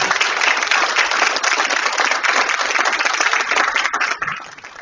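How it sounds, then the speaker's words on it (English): A crowd at a city candidates forum held at the Islamic Center of Frisco gives a steady, dense round of applause that holds strong throughout, then thins and fades near the end. "Can we get a round of applause for them?"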